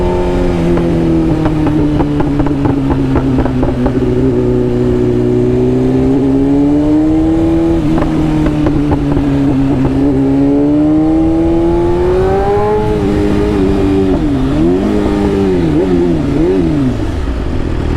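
A motorcycle fitted with a new exhaust, ridden for the first time after six or seven months, idles and revs loudly up close, its engine tone rising and falling in continuous sweeps with throttle blips toward the end.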